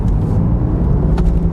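A 2020 BMW M8 Competition coupe accelerating, its engine giving a loud, steady low rumble that holds throughout with a brief brighter rise near the end.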